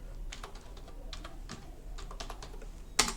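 Quick, uneven keystrokes tapped on a computer keyboard while entering text into Microsoft Word, moderately close, ending with one sharper, louder click at the very end.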